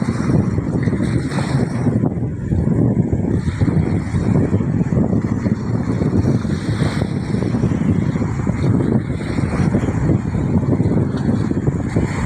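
Strong monsoon wind roars steadily across the microphone, a constant heavy buffeting with a deep rumble underneath and no voices.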